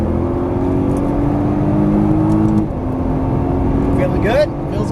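A Nissan GT-R accelerates at full throttle on a racetrack, giving a loud, steady engine roar that climbs briefly, shifts, then climbs again, heard close from inside the car.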